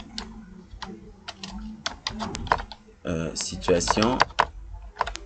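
Someone types on a computer keyboard in a word processor, with quick bursts of key clicks mixed with a person talking over them.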